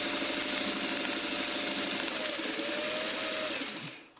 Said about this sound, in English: Stitch along one side.